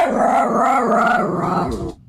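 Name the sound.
dog growling sound effect signalling a wrong answer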